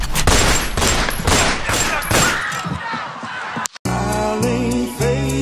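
A rapid burst of gunfire effects, loud and dense for nearly four seconds, then a brief cut before a musical passage takes over.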